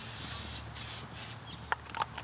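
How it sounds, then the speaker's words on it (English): Three short hissing bursts of cooking spray onto a hot grill, then a few faint clicks and taps close by. "spray with Pam or whatever."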